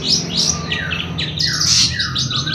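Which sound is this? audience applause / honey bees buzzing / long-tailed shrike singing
long-tailed shrike singing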